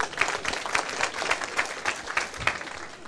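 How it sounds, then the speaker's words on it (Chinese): An audience at a lecture hall breaks into applause, a fairly faint, even wash of clapping hands with slight pulses, heard from a distance and lasting a few seconds. "拍手"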